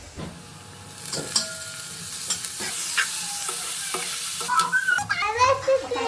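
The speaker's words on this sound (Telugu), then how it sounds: "ఈ ఎండురొయ్యలు ఆయిల్లో ఇలా వేగిన తర్వాత" Dried prawns frying in oil with green chillies and onion pieces, a loud, close sizzle broken by spatula scrapes and clinks, growing busier with crackling toward the end.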